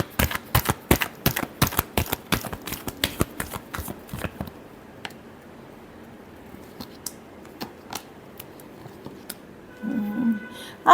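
Tarot cards being shuffled in a fast run of crisp riffling snaps, close and loud for about four seconds, then scattered lighter card taps and shuffles as a voice talks faintly in between.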